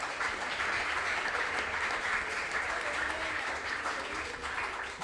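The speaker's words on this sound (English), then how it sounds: "Please clap for them." Audience applause at a school quiz contest's preliminary stage, a steady dense wash of many hands clapping that holds evenly for the whole stretch, with no voices over it.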